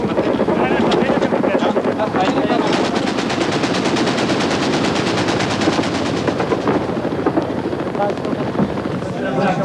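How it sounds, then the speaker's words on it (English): Rapid machine gun fire from helicopters strafing fleeing Kurds in Iraq, a dense continuous rattle of gunfire over wind and rotor noise, loud and close throughout. "Hussein's helicopters pursued and strafed them."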